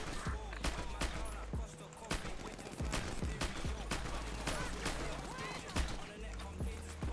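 Rapid bursts of gunfire in a GTA roleplay shootout, sharp repeated shots and volleys spread across the stretch, with people talking in between.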